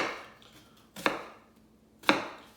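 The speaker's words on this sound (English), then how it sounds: "I'm just rough chopping it" Kitchen knife rough chopping an onion on a board for homemade ramen: two sharp, close chopping strikes about a second apart, with a quiet pause between them.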